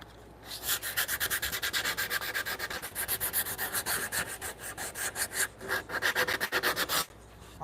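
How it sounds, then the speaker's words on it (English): Coarse 40 to 60 grit sandpaper worked by hand over a wooden joinery fit, a close, steady rhythm of fast scratchy back-and-forth strokes that pauses briefly and ends with a couple of knocks. "This sandpaper is like 60, 40, or 60 grit. It should be taking off a lot of material."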